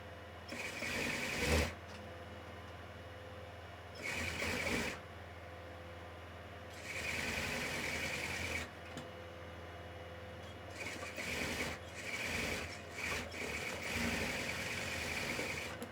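A sewing machine stitches a blouse lining in several short bursts of whirring, each a second or two long, separated by quiet gaps, heard fairly close and alone without talk.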